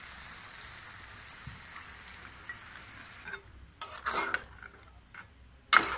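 Prawns cooking in a pan with spices after water is poured in, a soft sizzle that quiets down, then a few sharp spatula clinks and scrapes close by, with no talk.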